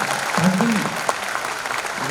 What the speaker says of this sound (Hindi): इस बात पर एक बार जोरदार तालियां बजाइए।